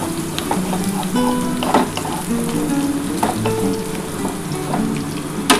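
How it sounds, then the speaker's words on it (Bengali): Onions frying in a pan for Bengali chicken kosha give a steady, dense sizzle close by, broken by occasional stirring scrapes, with a faint tonal hum underneath throughout. "পিঁয়াজটা লাল লাল যতক্ষণ না হবে একটু ভাজতে হবে"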